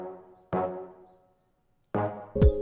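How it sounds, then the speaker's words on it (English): Brass stab chords in a music production, with two punchy hits separated by a gap and each fading out, followed by a brighter stab stacked with a low swooping tone at the end. "the last thing I added was this like brass stab."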